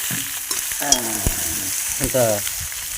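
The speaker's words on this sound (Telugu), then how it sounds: "ఇట్లా ఐదు నిమిషాలు ఫ్రై చేసుకోవాలా" Mutton frying with salt and spice powder in a pan, a loud close sizzle with scraping stir strokes at intervals, no talk.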